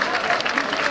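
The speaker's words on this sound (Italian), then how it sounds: "quindi un applauso più forte" Crowd applause at an outdoor town event welcoming a new football player, a steady patter of clapping at moderate volume with a voice over it.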